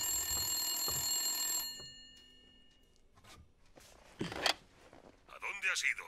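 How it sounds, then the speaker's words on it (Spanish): A telephone rings in the video game Blacksad: Under the Skin, a bright electronic trill heard loudly for the first second and a half, then cut off, followed by quieter clicks, thuds and game sounds. "¿Puedes coger el teléfono?"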